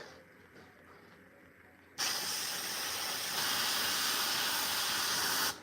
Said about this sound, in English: give a good spray underneath, like this